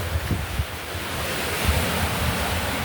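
Big sea waves churned up by Typhoon Uwan, a continuous rushing roar of surf blended with heavy wind buffeting the microphone, with low thumps of water near the start and midway.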